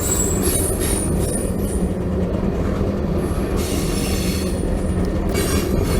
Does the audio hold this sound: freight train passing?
yes